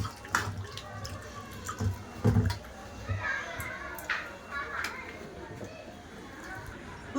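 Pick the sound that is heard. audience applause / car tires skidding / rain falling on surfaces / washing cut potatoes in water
washing cut potatoes in water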